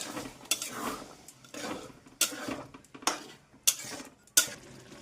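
Boiled mung dal being stirred in a pot for khichdi, a quiet, close sequence of spoon scrapes and sloshes punctuated by sharp clinks against the metal.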